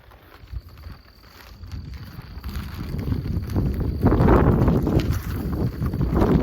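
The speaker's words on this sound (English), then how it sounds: "it's very windy today" Wind gusting steadily across the microphone, a low rumbling roar that builds in strength and stays loud, with no voices present.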